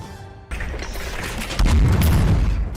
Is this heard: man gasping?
no